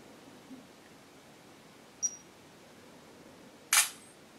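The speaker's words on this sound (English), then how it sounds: "you can point to focus and hit the shutter button." Camera shutter sound of a Motorola Droid Razr HD phone: a faint short click, then a few seconds later a louder sharp synthetic snap, both close against a quiet hiss, no voices.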